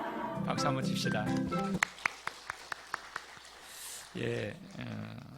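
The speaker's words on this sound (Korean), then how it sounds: "박수 한번 칩시다" A church congregation at a Sunday service claps in a short run of about eight sharp, evenly spaced claps after a man's spoken call, followed by more talk.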